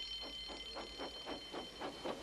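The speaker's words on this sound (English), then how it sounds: "Soon came the alarm." A steady electronic alarm tone rings over a rhythmic chugging pulse, repeating about every half second at moderate, even volume.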